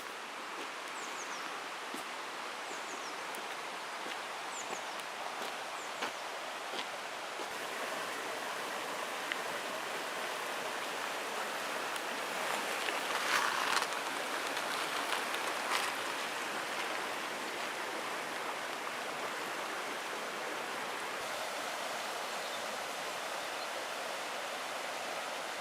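A river on an old Cornish tramway walk flows steadily, a broad, even rush of water that holds constant throughout at moderate distance with no voices.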